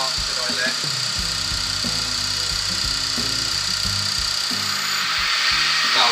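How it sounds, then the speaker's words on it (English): A woodturning lathe runs steadily while turning a ring box, its motor holding a constant whine and hum close by, with faint tool contact and rumble underneath and the pitch rising slightly toward the end. "Now I'll slow the lathe down as much as I can."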